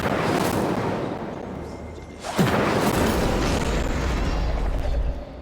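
In a Hogwarts video game, an Incendio fire spell goes off as a sudden loud whooshing burst with a booming rumble that carries on over a steady background of game noise.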